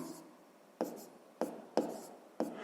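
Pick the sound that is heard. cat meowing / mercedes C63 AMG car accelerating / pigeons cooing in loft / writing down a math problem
writing down a math problem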